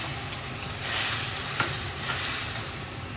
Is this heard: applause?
no